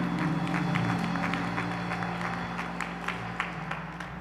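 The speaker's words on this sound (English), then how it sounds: "Let's give God a rousing round of applause for him." On Easter Sunday a church congregation claps in a rousing round, continuous applause blended with sustained musical tones throughout.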